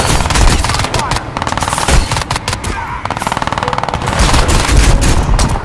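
Loud rapid rifle fire from the video game Crysis 2 Remastered rattles in long automatic bursts, with sharp repeated cracks, brief pauses and heavy booming impacts mixed in.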